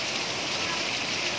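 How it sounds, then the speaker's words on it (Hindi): A sudden, heavy downpour heard from indoors beside an open window, a dense, steady hiss of pouring rain close by with no break. "जस्ट 2 मिनट में इतनी तेज बारिश आ गई ना यार"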